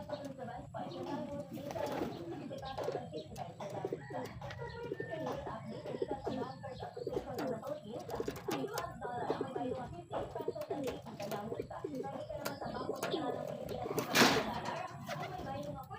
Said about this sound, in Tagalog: Pasok na natin mga kalapatids.